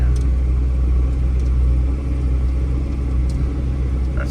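An old tractor engine rumbles steadily while riding through a valley, a continuous low, loud drone with no pauses or voices.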